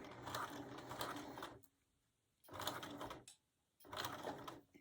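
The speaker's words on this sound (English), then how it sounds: "Sew down to the end, hold your thread at the top." A sewing machine stitching quilt block pieces runs in three close bursts of rapid mechanical whirring, with short quiet pauses between them.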